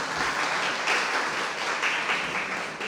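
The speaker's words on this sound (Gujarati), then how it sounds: "જોરદાર તાળીઓથી વધાવીએ" Audience applause at a Gujarati women's book-talk gathering, a steady dense wash of many hands clapping continuously for about three seconds, fairly close and even, with no voices over it.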